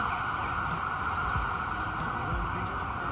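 On a New York street, an ambulance siren wails steadily and loudly, a continuous tone over traffic rumble that stays constant throughout.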